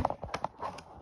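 Horse hooves clip-clop at a riding camp, several quick uneven hoofbeats close by with a brief voice-like murmur mixed in.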